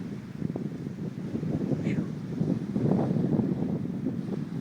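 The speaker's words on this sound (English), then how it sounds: "I mean, it's really windy" Strong wind sweeps across 16 Island, an island with gators in its backwaters, roaring steadily and buffeting the microphone with low gusts throughout, with no voices.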